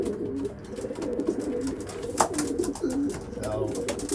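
Young racing pigeon cocks coo in their loft boxes, a soft rolling chorus of low throaty calls close by, with a few sharper sounds and a voice speaking over them.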